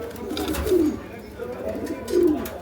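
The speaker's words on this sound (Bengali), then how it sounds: "সুন্দর কবুতর জোড়া দোবাস।" A pair of Dobas pigeons, a male and a female, coo in deep, throaty phrases, with two rolling coos a little over a second apart. The sound is close and fairly loud over a low background murmur.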